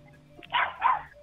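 A puppy gives two quick, sharp yappy barks in close succession, fairly close and clear against a quiet background.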